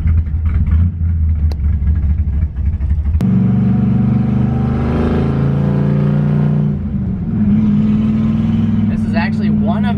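A car heading out onto a race track with elevation changes revs and accelerates, its engine note rising through gears in a loud, continuous drone with pitch sweeps, while a voice talks over it.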